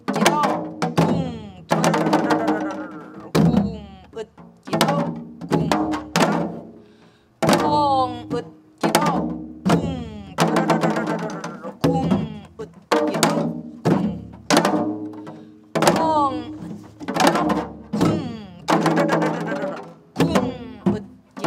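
A janggu, the Korean hourglass drum, is struck in repeated resonant strokes with ringing decays, played up close in a steady rhythmic pattern during a basic rhythm lesson.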